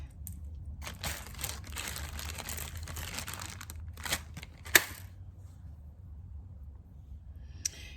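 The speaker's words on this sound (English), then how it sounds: "Put these beads back in the bag." Plastic beads are poured and pushed back into a crinkly bag, giving bursts of rustling and crinkling in short clusters, with a sharp crackle near the middle and a brief one at the end, close and quiet.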